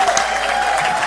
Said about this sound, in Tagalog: Bigyan natin ng tatlong palakpak.